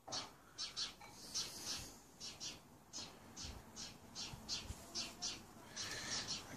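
A garden bird calls repeatedly in short, bright squawking bursts in fairly steady rhythm, faint and somewhat distant outdoors, with no talking.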